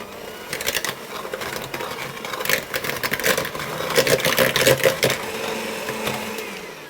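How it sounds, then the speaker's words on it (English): Electric hand mixer whirs while creaming butter and sugar for a strawberry and cream sponge cake, a close buzzing motor with rattling beater clatter that rises and falls in intensity. "I'm going to use my hand mixer"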